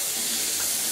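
Hot water pours steadily into an enema bag, a continuous bright hiss and splash that fills the whole second without pause and with no voices.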